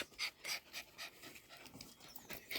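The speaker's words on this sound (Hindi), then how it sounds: "बहुत ज़्यादा एक्साइटेड छोटी वाली डॉगी।" Small, very excited dog tied up at a Himachal village home pants in quick, rhythmic breathy bursts, close by and fairly quiet, with no talking over it.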